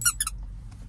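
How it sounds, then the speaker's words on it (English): Squeaky dog toy for puppies gives a few quick, close, high-pitched squeaks in a short burst, then falls quiet. "he's got a squeaky."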